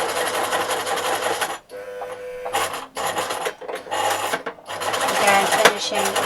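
Sewing machine stitching fabric bunting in quick bursts, a rapid mechanical whirr that stops and starts several times with short pauses between runs, close and clear.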